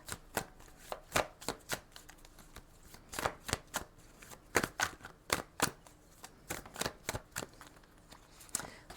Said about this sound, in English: I know you're going to say stop shuffling